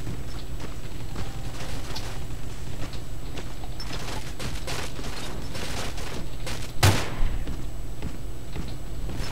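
Gunfire in the Facebook shooter game Ballistic keeps up a dense, steady stream of rapid shots and mechanical clatter. One louder blast cuts through near the end, with no voices.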